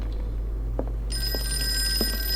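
An old-fashioned telephone bell in the video game Call of Cthulhu starts ringing partway through, a bright, continuous metallic trill over a low background hum with a few faint knocks.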